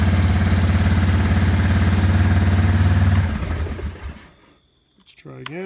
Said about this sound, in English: So it makes that loud clunking sound.